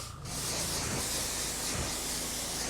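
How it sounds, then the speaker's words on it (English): A spray gun blasts a steady, close, loud hiss of water while rinsing suds off a car in a downward motion, continuous throughout with no voices. "Kind of hold your gun down just to spray everything in a downward motion onto the floor."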